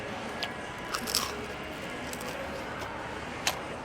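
Someone bites into a crunchy fried batter snack with corn from Yangon street food, giving a few scattered sharp crunches over steady outdoor street noise.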